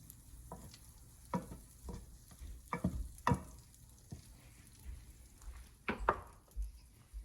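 Garlic cooks in a little sesame oil and butter in a pan, with a quiet low sizzle broken by several sharp scrapes and clacks of a utensil against the pan, close by and sparse.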